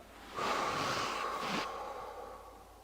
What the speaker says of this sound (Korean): 가슴을 펴면서 숨을 코로 들이키세요